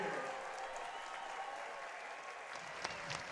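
Steady applause and cheering from a baseball crowd at Labatt Park during an Intercounty League game, London Majors hosting the Barrie Baycats; even, fairly distant clapping that holds for several seconds with no voices over it.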